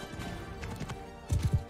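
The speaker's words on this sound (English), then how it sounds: "horse." Horse hooves in the video game Mount & Blade 2: Bannerlord, a few soft clip-clop steps followed by a louder cluster of three heavy hoof thuds near the end.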